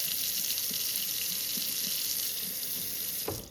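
Hot water runs steadily from a kitchen tap into a sink, a continuous broadband rush with small gurgles that stops abruptly with a faint clunk at the very end.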